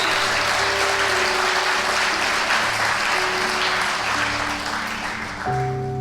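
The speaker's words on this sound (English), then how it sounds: "Yeah, give him a round of applause." Audience applause fills a hall for a reverend at a motivational speaking event, a dense steady wash of clapping at full strength with faint held musical tones beneath, lasting throughout before easing slightly near the end.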